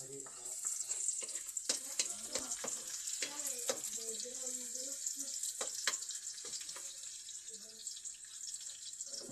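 Liquid is poured into pork adobo frying in a pan, setting off a close, crackling sizzle with scattered sharp pops and spatters that continue steadily throughout.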